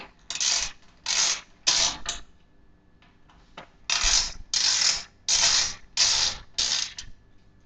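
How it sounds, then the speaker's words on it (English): A ratcheting screwdriver backs out the screws holding a drive cage in a computer case, giving about seven bursts of rapid clicking, close and fairly loud, with short pauses between them. "now we're going to remove these screws that hold the drive cage in. Set my screwdriver to ratchet properly."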